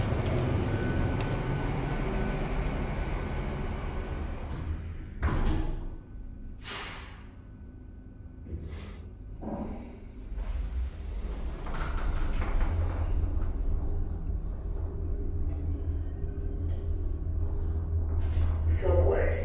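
A 2007 Stannah passenger lift at Taunton station travelling down from platform level to the subway, a steady low hum and rumble of the moving car with a few clunks and door sounds, under a voice announcement.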